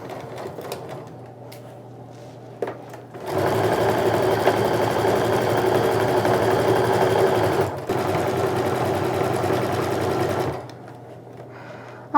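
A sewing machine sews a 1/4 inch seam around the side edges of a sling bag, running steadily for several seconds with one brief pause, close and fairly loud over quiet room hum.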